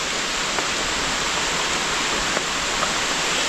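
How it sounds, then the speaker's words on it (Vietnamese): Steady rain pouring outdoors by a small river during a fishing trip, a dense continuous hiss with a few faint drips, no talking. "Mưa đến luôn."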